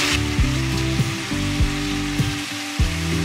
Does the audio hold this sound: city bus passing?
no